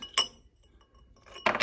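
An ice cube drops into a glass beaker of water in a density demonstration, giving a sharp glassy clink, a quiet pause, then a second louder clattering knock near the end, close and with no speech.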